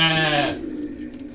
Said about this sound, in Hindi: ये छोटे बच्चे इस घर में मौजूद हैं दोस्तों, बकरियों के, भेड़ के बच्चे भी हैं और बकरियों के बच्चे भी हैं